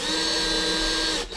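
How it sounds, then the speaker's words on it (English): A power drill bores a starter hole into hard modelling clay, a steady high-pitched whine running loud and close before cutting off abruptly at the end. "The only reason I'm drilling a hole first is because this stuff"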